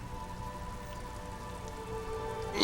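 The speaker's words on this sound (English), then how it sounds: "All around you, rain falls on the great city of Revachol." Rain falls over the great city of Revachol in the video game Disco Elysium, a soft, even patter heard alone at low volume with a faint steady hum beneath it.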